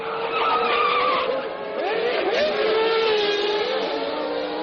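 Formula 1 race cars from the 1999 season scream past with high engine whine and shifting pitch, a couple of cars passing close and loud in quick succession, with a faint voice underneath.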